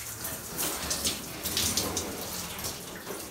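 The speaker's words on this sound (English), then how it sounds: "just hot water, rinse it" Hot tap water splashes and streams over a neoprene wetsuit as it is rinsed, a close continuous hiss of running water with uneven surges and no talking.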